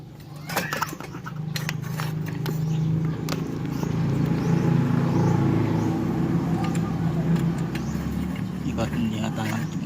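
A Suzuki Smash motorcycle engine fitted with a new muffler runs at a steady low exhaust rumble, with someone talking over it throughout.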